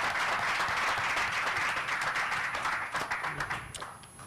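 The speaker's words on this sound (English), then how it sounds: "please also give a round of applause" An audience at a talk on the business of hip hop gives a round of applause, dense clapping that holds steady and then thins out toward the end.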